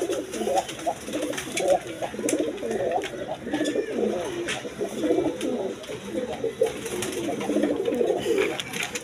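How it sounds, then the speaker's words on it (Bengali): A pair of Kalpit pigeons kept for sale coo repeatedly in soft, throaty, rolling phrases, close by and continuous. "দর্শকবৃন্দ এখানে এক পেয়ার কবুতর আছে, কালপিট কবুতর।"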